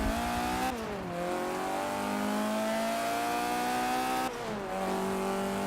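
A race car in the Forza 7 video game roars at steady high revs with tire squeal layered in, the engine pitch dropping sharply twice as it shifts gears, loud and continuous.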